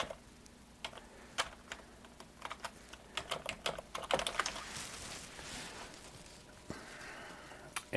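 Keys on a computer keyboard tapped out as a password is entered, quiet irregular clicks in short bursts, quickening into a dense flurry midway before tapering off, fairly close and faint.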